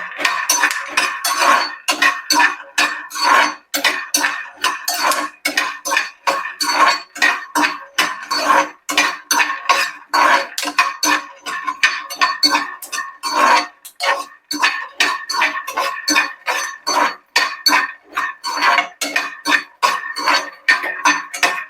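Peanuts roast in a pan and pop in a dense, steady stream of sharp clicks and rattles against the metal that goes on for about twenty seconds, close and loud, with no talk.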